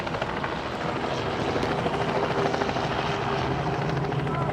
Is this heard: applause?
no